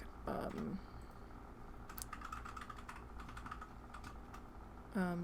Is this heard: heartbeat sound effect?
no